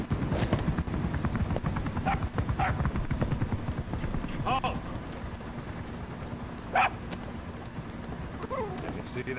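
A dog yips and barks a few times amid steady clip-clopping hooves, with the barks sharp and fairly close, in the video game Metal Gear Solid V: The Phantom Pain.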